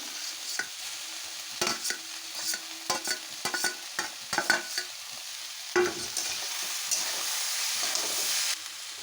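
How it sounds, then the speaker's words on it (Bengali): Mixed vegetables and pointed gourd fry in a pan, a steady sizzle broken by repeated scraping strokes of a spatula stirring, close and clear, with a soft hiss carrying on after the stirring stops. "সবজিগুলোকে আমি ভালোভাবে ঢাকা দিয়ে ভেজে নেব।"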